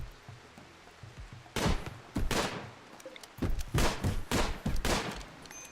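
Video-game gunfire in a woad warriors battle, a string of loud sharp shots and short bursts in fast succession that breaks out after a quiet start, with no talking.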